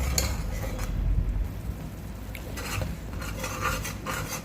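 Chickpea gravy being stirred in a pot, a close, continuous scraping and clinking of a spoon against the metal with a faint bubbling underneath.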